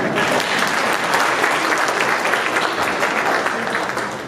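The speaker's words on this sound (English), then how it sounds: "I think that's something we should applaud." Audience applause at an awards ceremony for an installation of officers, a dense, steady wash of clapping from a crowd, loud and continuous throughout.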